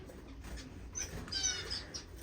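Finches in a bird room give faint, scattered high chirps over a quiet background hum, a few short calls clustering near the middle of the moment.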